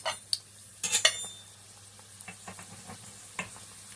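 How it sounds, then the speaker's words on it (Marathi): Sambar vadi frying in moderately hot oil over a low gas flame gives a soft, quiet sizzle, punctuated by a few sharper utensil clinks and stirring scrapes near the start, then scattered light ticks. "आता आपण त्यामध्ये कमी गॅसवरच सांबार तळून घेऊया"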